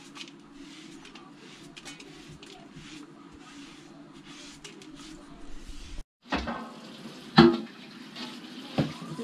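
Fresh market peppers and vegetables are washed under a running kitchen tap, with a soft steady water stream followed by louder splashes and handling knocks; a voice speaks faintly.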